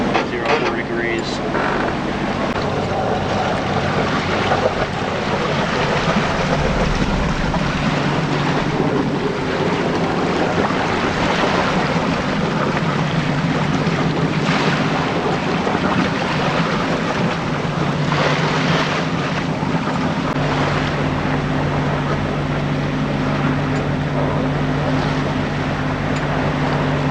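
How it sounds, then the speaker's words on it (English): Strong wind roars across a sailboat at sea, a constant loud rushing broadband wash with low rumble and gusts; a person talks at points over the noise. "The wind is picking up."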